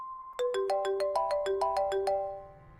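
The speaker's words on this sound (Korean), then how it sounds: "그때 태수에게 전화가 왔습니다." A phone ringtone chimes with a quick melodic run of bright, evenly paced tones, loud and close, then fades out with no one speaking.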